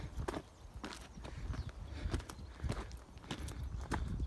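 Horses walk along a mountain trail, their hooves clip-clopping in a steady, uneven rhythm close by over wind and outdoor noise.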